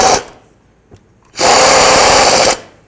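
Power tool snugging up the starter mounting bolts on a Chevy S-10, a short tap at first, then one loud, steady whirring burst of about a second, close up, with no talk.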